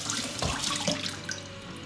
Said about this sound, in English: under running water and/or submerged in water